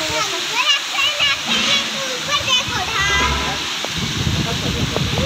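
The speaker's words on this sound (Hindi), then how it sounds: "देखो कितने बड़े बड़े फुहारे निकल रहे हैं" Big fountains spray water at a water park with a steady hissing, splashing rush that fills the whole clip, while children and other voices chatter underneath.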